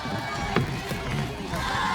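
A boxing arena crowd cheers and murmurs for Sam Goodman, a dense, steady roar of many voices with one brief sharp burst of noise partway through.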